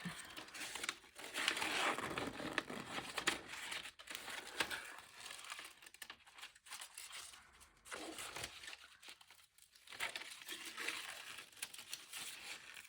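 Scissors cut freehand through handmade gelli-printed paper, shaping a Matisse-style collage piece: a steady, close run of crisp snipping and crinkling paper rustle with no talk.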